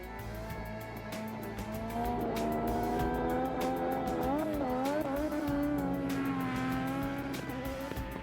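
Formula One racing cars screaming down a 1,000-meter airfield runway, high-revving engines droning loudly and continuously with pitch rising and falling through gear changes, close and dominant throughout.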